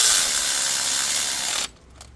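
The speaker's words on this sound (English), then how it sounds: "Then use electric ratchet." An electric ratchet tightens a spark plug on a 2017 Nissan Pathfinder. It gives a steady, close whirring buzz for about a second and a half, then cuts off abruptly, leaving faint clicks and no talking.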